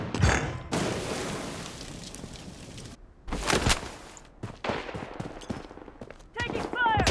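Gunfire from the Blood Strike shooter game comes in several bursts of sharp, loud shots and rapid automatic fire, separated by short lulls. Voice callouts occur between the volleys.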